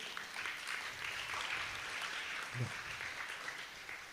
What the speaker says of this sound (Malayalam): നന്നായിട്ടൊരു കൈയടി കൂട്, നന്നായിട്ട് കൈയടി